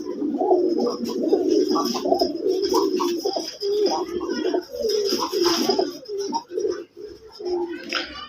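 A male Madrasi pigeon coos up close in repeated throaty, rolling phrases, and someone talks over it at times.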